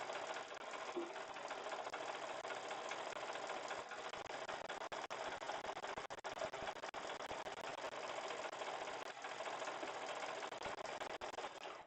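A sewing machine runs steadily and loudly throughout, a continuous straight-stitch whir with a constant mechanical hum, sewing pieced jelly roll strips together.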